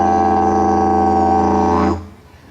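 A deep, steady didgeridoo drone with rich buzzing overtones holds for about two seconds, then stops abruptly.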